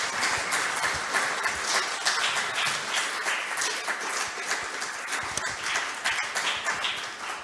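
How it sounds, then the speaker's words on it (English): Sustained audience applause at an international conference on cultural property protection, a dense, steady wash of many hands clapping that fills the room continuously with no talk over it. "And this is, in addition, the applause for welcoming Karl Habsburg."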